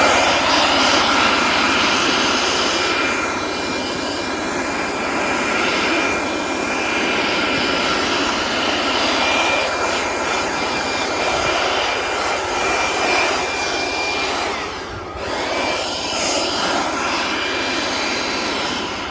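A snow blower or leaf blower used to clear snow off a vehicle's roof and windows in unusual Southern winter weather, producing a loud, steady, close-up roaring whoosh that runs continuously with only a brief dip.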